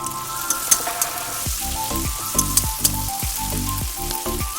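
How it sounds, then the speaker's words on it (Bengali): Tomatoes with salt sizzling in hot oil in a pan, a steady close frying hiss with a few sharp clicks and scrapes of a spatula stirring, continuous and without talk. "ভালো করে নেড়ে চেড়ে ভেজে নেব।"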